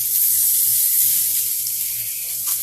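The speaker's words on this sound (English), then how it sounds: "Next thing I'm going to do is put my fish in my pan." A salmon fillet laid into a smoking-hot oiled pan gives off a loud, steady, close sizzling hiss that stays even throughout with no voices.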